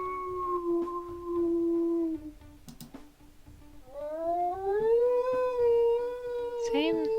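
Two wolf howls from the video game WolfQuest: a long level howl that fades out, a short gap with a faint click, then a second howl rising and sliding upward, ending in a brief wavering yelp.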